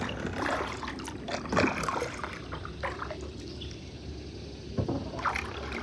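River water flowing and trickling nearby, a continuous bubbling wash with scattered drips and splashes, steady and fairly close.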